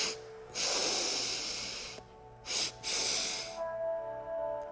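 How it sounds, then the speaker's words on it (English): Forceful sniffing inhales through the nose come in a few sharp bursts, close and loud, over a soft sustained musical drone, then fade to quieter breathing as the breath is held. "Inhale, inhale, inhale, inhale, inhale. 5 sniffs and hold your breath after that."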